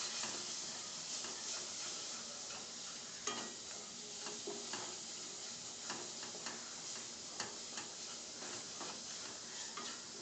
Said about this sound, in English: I give it a quick mix to it.